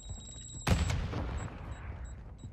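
In Call of Duty Warzone, a mortar strike lands with a sudden loud, close blast that rolls off into a long rumbling decay, with faint game beeps around it.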